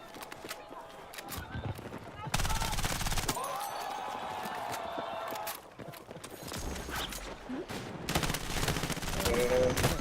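Bursts of gunfire from a 17-round handgun in a video game, popping in loud clusters over a steady background of game noise, with a voice talking at times.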